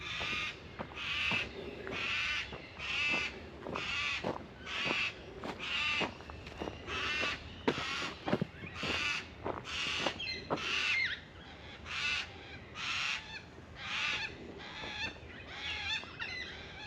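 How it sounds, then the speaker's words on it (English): Baudin's black cockatoos call repeatedly in bushland near Perth, a series of harsh, wailing cries in quick succession, fairly close and loud, with no talk. "So far, you're surrounded by Borden's black cockatoos"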